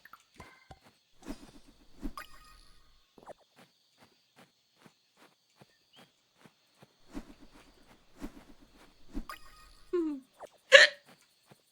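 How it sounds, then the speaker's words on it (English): Several short hiccups from a gamer during a quiet stretch of Fields of Mistria play, spaced out with soft game sounds between them and one louder burst near the end. "Wow, hiccups."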